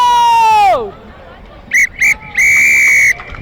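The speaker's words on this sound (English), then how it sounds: "Goes the whistle for full time" A referee's whistle is blown for full time at an under-16/17 rugby final between Howick and Manurewa: three sharp shrill blasts, two short and one long, ringing out loud above faint crowd noise.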